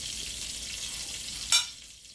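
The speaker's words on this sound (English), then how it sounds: "I know y'all hear me stirring this oatmeal." A spoon stirs oatmeal in a pot on the stove, giving a soft steady hiss and a sharp scrape of the spoon against the pot near the end, close and quiet with no talking.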